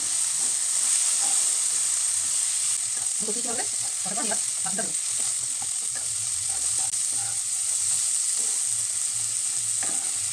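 Mushroom masala with cumin, coriander and turmeric powder sautéed in a pan, a constant loud sizzle and hiss with a few scraping stir strokes near the middle, close up and without talk.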